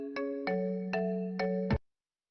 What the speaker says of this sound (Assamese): কস্তুৰী ফোন